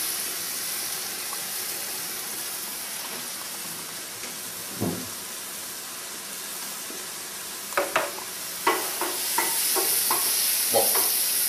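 Champignon mushrooms frying in a pan give off a low, even hiss, with scattered spatula scrapes and taps toward the end, near and moderately quiet.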